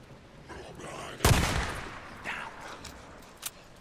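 Gunfire in the video game Days Gone, one loud close shot followed by a couple of fainter reports over a low game ambience, with no talking.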